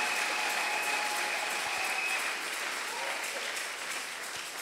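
Sustained applause from a church congregation acclaiming the Lord, a dense, steady wash of clapping heard from within the room that eases slightly toward the end, with no one speaking over it.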